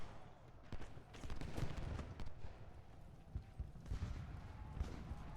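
Infantry volley gunfire in the Ultimate General Gettysburg game, a faint, distant crackle of ragged musket volleys rolling on and off over a muffled battlefield din.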